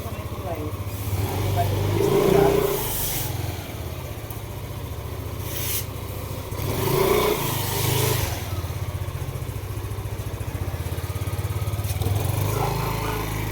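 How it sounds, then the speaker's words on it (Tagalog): A Yamaha Aerox 154 motorcycle engine that keeps stalling idles and revs steadily with a rattling drone, swelling a few times, while people talk over it nearby. "Tetestingin na na sir yung motor niya"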